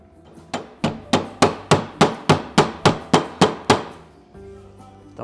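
A hammer strikes a dented rear car body panel in a steady series of about eleven sharp metallic blows, close and evenly spaced, followed by a low hum after the hammering stops.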